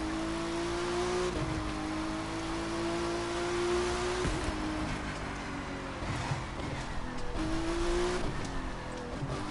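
A sports car's engine roars and revs in The Crew 2 racing game, holding a steady high-pitched drone with pitch shifts as gears change, loud and continuous with no talking.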